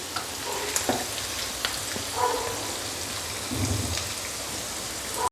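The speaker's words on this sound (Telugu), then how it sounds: "ఇప్పుడు దీన్ని చికెన్ ఫ్రై అవుతుంది కదా" Chicken fries in oil in a pot for chicken fry biryani, a steady rain-like sizzle and bubbling with small pops and light stirring, close and moderately loud.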